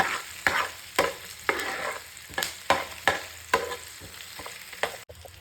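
Onions frying in hot oil with a steady sizzle, broken by repeated scraping stir strokes about every half second, close and fairly loud, with no voices.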